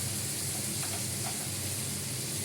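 Ridge gourd, potatoes and lentil dumplings frying in a pan, a steady, close, hissing sizzle with faint stirring scrapes and no talking.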